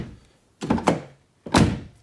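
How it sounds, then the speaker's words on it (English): Two solid thunks of a car door being shut on a Volkswagen Touareg, Audi Q7 or Porsche Cayenne after shim adjustment for door sag, each a heavy close slam with a short rattle, spaced about a second apart. "door actually shuts nice."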